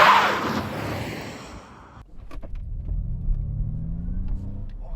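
A Ford Mustang Mach-E GT electric car pulls away from a standstill, its motor whine rising steadily beneath a low, rumbling road noise that is loud and close.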